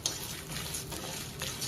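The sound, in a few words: dry roasting ingredients for gunpowder chutney in a pan on low flame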